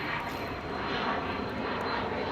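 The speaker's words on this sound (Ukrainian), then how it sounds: "літак летить ще" An airplane passes overhead somewhere in Portugal, a steady broadband engine roar that holds fairly loud and even across the whole stretch, with no voices.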